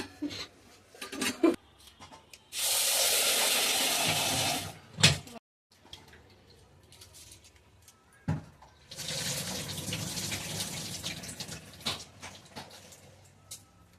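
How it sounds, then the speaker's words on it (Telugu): Tap water runs in two loud gushing bursts while lentils are washed for dal in a home kitchen, with quieter clinks and handling sounds in the pauses between. "పప్పు కడగాలి, అది కూడా తెలియదా?"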